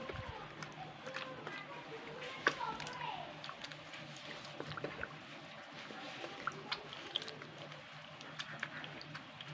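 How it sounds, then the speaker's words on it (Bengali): Flour dough being washed by hand in a bowl of water gives soft, irregular squishing and light splashing, faint and close, with scattered small drips and clicks. "এবার আমি ময়দাটাকে ভালো করে ধোবো এইভাবে ধুতে হবে ময়দাটাকে"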